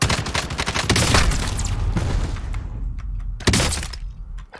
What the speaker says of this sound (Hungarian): Ide lőnek.